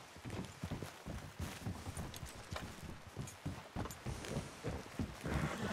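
Horse hooves clop at a steady walking rhythm in the Red Dead Redemption 2 video game, a continuous, fairly close run of muffled hoofbeats with no talk over them.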